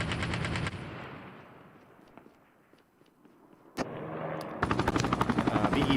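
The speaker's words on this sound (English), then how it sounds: "Wadu Heck now has his own helicopter." A helicopter in the Call of Duty Mobile video game thrums loudly with a rapid chopping pulse, fades into a quiet stretch with scattered distant gunfire, then returns abruptly close and loud.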